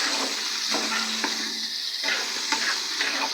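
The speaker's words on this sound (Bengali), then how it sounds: "গাজরগুলো দিয়ে একটু ভাজতে হবে।" Flower-cut carrots sizzle and fry in a pan for chili chicken, a steady close crackle with a few stirring scrapes and clinks.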